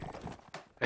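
A horse gallops in a video game match, its quick hoofbeats faint and uneven, then swelling into a louder burst at the very end.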